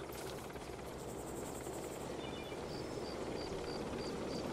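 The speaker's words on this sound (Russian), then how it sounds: "Сейчас вторая вертушка улетит" Continuous helicopter rotor noise in the game Arma 2: Operation Arrowhead, broad and steady as the helicopter flies away, with faint high electronic beeps repeating toward the end.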